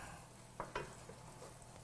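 Onions and spices toasting in a pan for biryani rice, a faint steady sizzle with two short scraping stirs near the middle, close and quiet with no talking.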